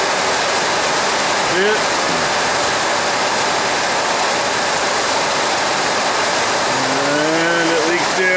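Heavy water streaming and splashing off a leaking carport roof onto a truck, a loud continuous rushing hiss like a downpour, close by, with someone speaking briefly over it near the start and end.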